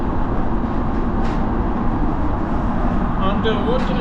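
Inside a moving train in England, a loud steady rumble with rail noise, a few faint high squeaks near the end.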